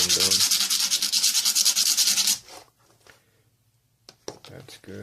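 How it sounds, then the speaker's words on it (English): Sandpaper rubbed briskly back and forth to sharpen small parts during a TV repair, a loud rhythmic scratching for about two seconds, then faint handling noises and a brief return of rubbing at the end. "Now I'm just going to take a little bit of sandpaper here because these aren't really sharp enough."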